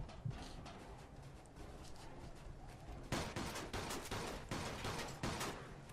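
Gunfire in the Mafia 2 video game, heard as a dense run of rapid shots that starts faintly under game ambience and then grows louder and sharper partway through, with no talking.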